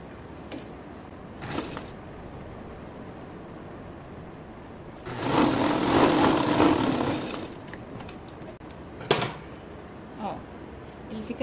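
A sewing machine runs in one steady stitching burst of about two seconds along a symmetrical draped blouse seam, with faint clicks and handling before and after and someone talking quietly nearby.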